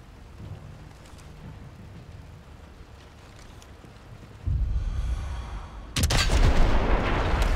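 A Sniper Elite 5 explosion in Ponts-sur-Douve: a low rumble swells partway through, then a loud, sharp blast breaks into a sustained, roaring boom with no voices.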